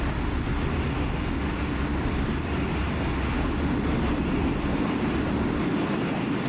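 Airliner engines roar steadily through a takeoff roll in a flight simulator game, an MD-80 accelerating down a New Zealand runway, a loud continuous rumble with faint periodic thumps and no talking.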